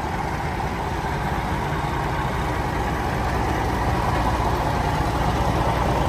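A 1990 Kenworth cabover truck engine idles steadily, a continuous low rumble with a broad mechanical hum that stays loud and even throughout.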